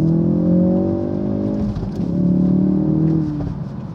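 A 2018 Ford Focus RS accelerating hard, its engine note rising loud and close, briefly dipping at a gear change, then climbing again with a strong tonal roar, no talking.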